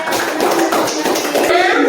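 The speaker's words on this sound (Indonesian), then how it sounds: "tepuk tangan untuk kalian" Children in a classroom clap in a quick, brisk patter of small hands, close by, with kids' voices chattering through it.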